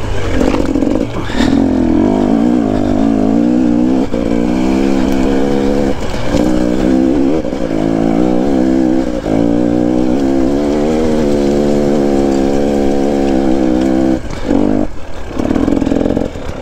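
A KTM 250 EXC dirt bike revs hard on a steep hill climb, its two-stroke engine wailing loud and close with rising and falling pitch, brief dips between sustained throttle pulls and no talk.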